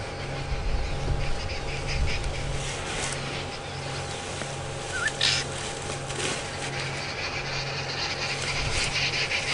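Arrow-marked babblers approach on a safari drive at Djuma Game Reserve, giving harsh, chattering bird calls at a moderate distance over a steady background hum and rustle.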